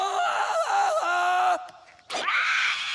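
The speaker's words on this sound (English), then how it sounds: "A clear jungle yell tells everyone you're ready to swing." A cartoon jungle yell from George of the Jungle, a long loud warbling cry that breaks off, followed by a short rising whoop and a second sustained yell, all close and alone.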